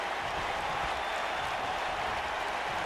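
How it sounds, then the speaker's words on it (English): A wrestling crowd at a live event cheers and claps in a dense, continuous roar of noise that stays loud and even throughout. "the crowd on their feet"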